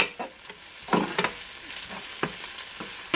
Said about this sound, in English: But I have the onions in the pot already. That's 2 cookspoons of olive oil